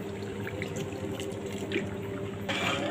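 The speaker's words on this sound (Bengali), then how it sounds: "সব শেষে দিয়ে দেব ভিনেগার" Vinegar poured into a cooked mango, garlic and tamarind pickle makes a steady, close liquid stream that swells slightly toward the end.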